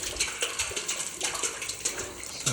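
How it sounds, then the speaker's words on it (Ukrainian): Water gushing and splashing steadily as it is pumped up from a well borehole after flushing, a continuous broadband rush with irregular surges throughout. "зараз вже качаємо із скважини."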